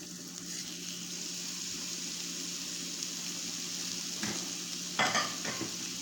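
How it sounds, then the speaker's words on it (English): A steady, crackling sizzle of seasoned steak frying in a hot pan, with a few louder spits and pops near the end. "And that's the sizzle you want to hear."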